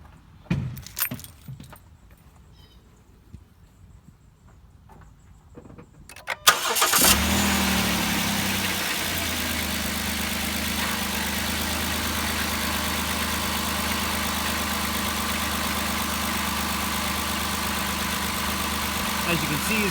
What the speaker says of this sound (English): then we're going to start the car